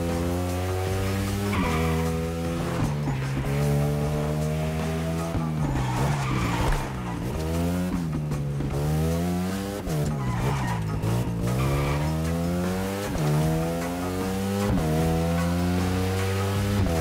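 A customized Lamborghini Aventador in The Crew Motorfest drives hard, its engine holding a strong rising and falling tone while tires squeal and skid through repeated slides, loud and continuous with no talk.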